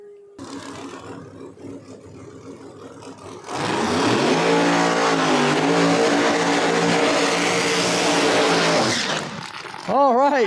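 No-prep drag racing car at Flying H Drag Strip, first a lower engine rumble, then a loud sustained high-revving roar with rising and falling pitch for several seconds. Another engine revs briefly at the end, with a crowd or announcer audible beneath.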